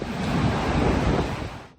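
A steady, heavy roar of Hurricane Milton's strong wind in Florida buffets the microphone, broadband and continuous, before cutting off abruptly.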